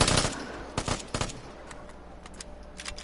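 Rapid gunfire from players shooting each other in the online shooter Vigor: a few sharp, loud bursts of shots early on, then quieter scattered reports over a low background, with no talking.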